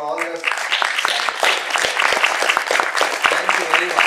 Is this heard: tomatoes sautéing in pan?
no